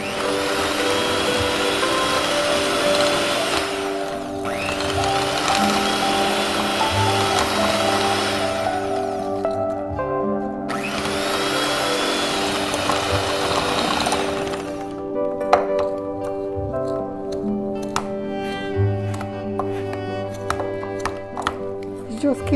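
An electric mixer whirs at low speed through brown and white sugar for banana bread, a steady motor drone that cuts out briefly twice and then gives way to clinks and clatter near the end.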